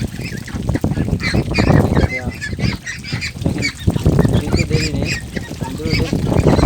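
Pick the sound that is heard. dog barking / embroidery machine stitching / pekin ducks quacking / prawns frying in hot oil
pekin ducks quacking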